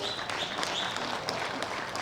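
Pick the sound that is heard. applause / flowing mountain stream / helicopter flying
applause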